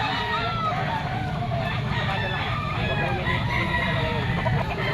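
Boston-bloodline gamecock stags at a pet and poultry market, with roosters crowing and hens clucking amid a busy crowd, several overlapping calls near and far under steady background voices.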